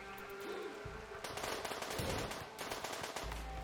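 Turret gunfire against mechanoids in Rimworld, quiet rapid automatic bursts in two clusters with a steady patter of shots.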